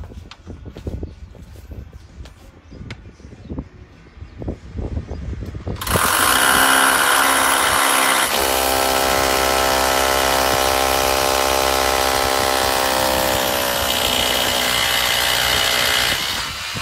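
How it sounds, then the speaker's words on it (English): A power drill starts up after some scattered knocks and handling noise, then runs loud and continuous with a steady whine and a slight pitch shift partway through, close by with no talk. "This is not an improvisation drill. This is a real drill."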